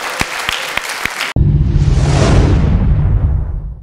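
A concert audience bursts into loud, sustained applause after a few sharp opening claps, a dense wash of clapping that holds steady and then begins to thin.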